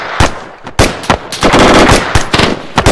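Machine gun fire during an airborne division military exercise, loud bursts of automatic shots in short, irregular groups with sharp single reports between, close and dominant throughout.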